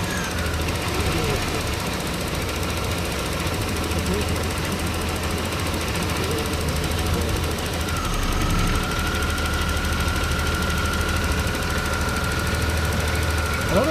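A Holden VP Commodore engine idles with a steady, rough knocking chatter, loud and continuous throughout, with a faint whine rising partway through; the car has an electrical fault and is prone to overheating.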